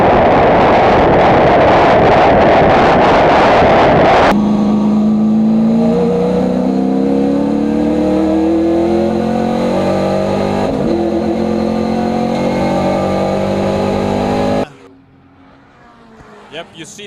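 A large pack of race cars, including an Escort, accelerating toward turn one at Block Point corner, loud engine roar close by, then a sweep of rising, overlapping engine notes before the sound drops away to near quiet at the end.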